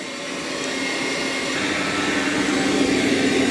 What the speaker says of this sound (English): it is going to vacuum that carpet also